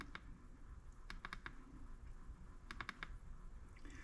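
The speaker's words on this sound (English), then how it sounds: "let's try double clicking it" Quick double clicks on a button of an ultra mini keyboard with a laser pointer, small crisp taps in a few close pairs and clusters, near and fairly quiet.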